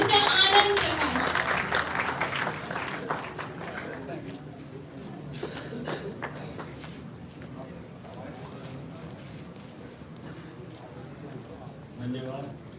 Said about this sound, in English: huge round of applause for our chairman, sir, Mr. Anand Prakash.